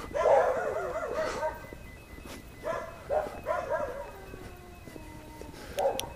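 Dogs barking and howling at night during a walk in the dark, a cluster of moderately distant barks and wavering howls in uneven bursts, fairly faint with quiet gaps between.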